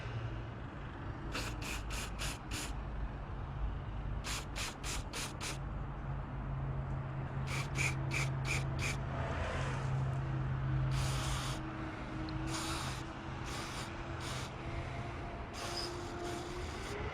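Cleaner sprayed onto the mass air flow sensor of a 2014 Toyota Corolla in a series of short, sharp hissing bursts fired in quick groups, close by over low background hum, with no talking.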